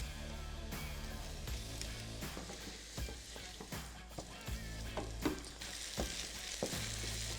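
Onion, salami and garlic frying in a pot, a steady close sizzle with repeated stirring scrapes and clacks of a utensil against the pot throughout.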